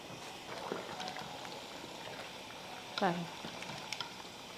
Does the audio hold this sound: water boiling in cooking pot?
yes